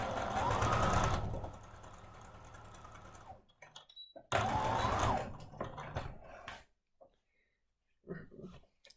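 A sewing machine stitches across the bottom of a rice-filled fabric hand warmer, running in two loud bursts of steady whirring separated by a pause, with quieter handling clicks and a short gap of near silence.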